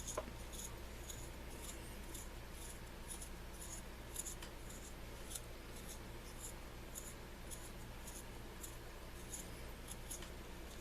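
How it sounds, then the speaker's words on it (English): A 2B woodless graphite stick is scraped over paper, giving a faint, continuous dry scratching with light rhythmic strokes over steady background hiss. "I'm going to first sharpen this woodless graphite over the paper, and it's a 2B woodless graphite"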